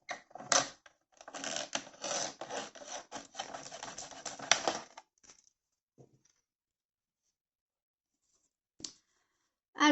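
Scissors or a blade cut through a paper strip for a denim moodboard card, a close, quiet run of dry scratchy rasping for several seconds, then silence broken by a couple of brief rustles.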